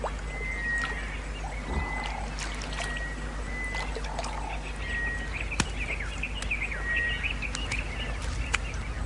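Fishing birds such as the African tantalus at a shrinking shallow pool, with scattered thin calls and chirps over a steady low wash of trickling water and ambient noise.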